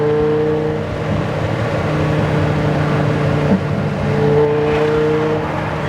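A Dodge Viper GTS ACR on a four-lane road, its engine droning steadily with a rising pitch as it pulls under acceleration, loud and close from inside the car.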